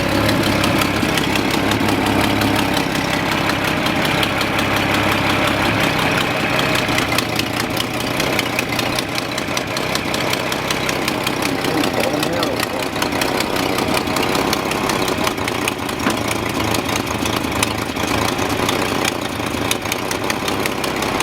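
A Datsun 240C engine idles steadily and loudly up close, with a rough, uneven chuffing and ticking from an exhaust leak, running continuously without talk.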